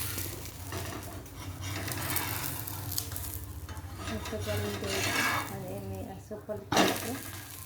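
Dahi dhapate flatbread sizzling and crackling in butter and oil on a hot pan, a steady frying hiss with scraping of a spatula, while someone speaks over it.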